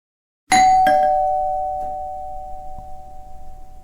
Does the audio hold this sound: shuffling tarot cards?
no